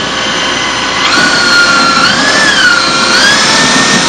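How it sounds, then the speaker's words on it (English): A power drill whirs loudly and steadily, its motor pitch climbing slightly and wavering as it churns a thick soap mixture in a lab. "you take our handy dandy drill. Yeah. And you just stir a little bit."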